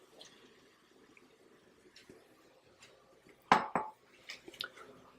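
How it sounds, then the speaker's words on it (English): Ackee drops into a cooking pan for ackee and saltfish, a couple of soft clatters and a sharper clink near the end after quiet kitchen sounds. "Now I'm going to be putting the ackee in"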